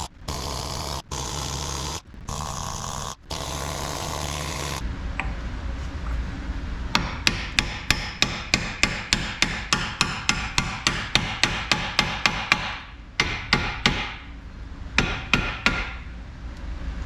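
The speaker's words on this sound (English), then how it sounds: "I'm just gonna try to tap around the nut and hopefully it gets all rust off." A hammer taps around a rusted front wheel bearing nut on a 2013 Jeep Patriot, a long run of sharp metallic strikes at a steady quick rhythm, following a few heavier clanks at the start and a short pause near the end.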